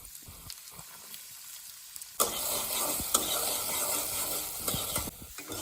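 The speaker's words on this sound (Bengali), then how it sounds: "এখন আমি আলুগুলোকে ভেজে নিব" Potatoes go into a hot pan and hit the oil with a sudden loud sizzle after a quieter stretch of faint clinks, then crackle steadily with a few sharp utensil knocks.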